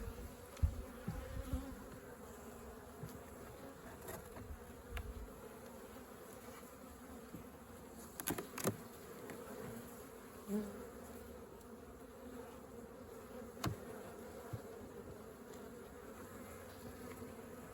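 Honeybees hum in an opened hive during an early-season check, a soft, continuous drone under occasional faint knocks and handling bumps, with no talking.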